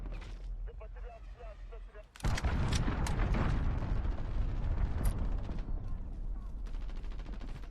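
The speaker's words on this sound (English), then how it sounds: "Enemy cruise missile, take cover." A cruise missile strike in Call of Duty Modern Warfare: a sudden loud blast hits about two seconds in and gives way to a sustained rumbling roar with crackling debris. A game voice speaks faintly before the impact.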